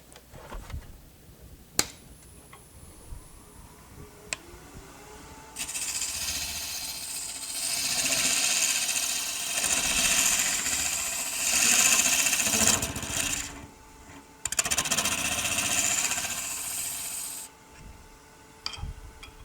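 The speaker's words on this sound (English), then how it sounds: "This time we're going to use the scraper." A wood lathe turns a workpiece while a scraper is held against it, giving a steady rasping scrape that builds after a few quiet seconds, breaks off briefly, then resumes loud and close before stopping.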